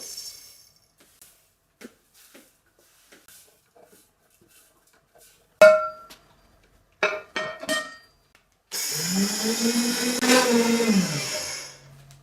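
A kitchen blender grinds dried corn kernels and small lentils for haleem, first a few light taps and clinks, then a loud whirring motor roar that runs for several seconds near the end.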